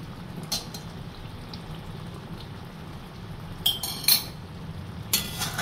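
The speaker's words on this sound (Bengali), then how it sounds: "ঘিটা আমি ভালো করে মিশিয়ে নেব।" A spoon stirs half a spoonful of ghee into a spicy Bengali prawn curry in a pan, giving a few scattered metallic scrapes and clinks over a low simmering hiss.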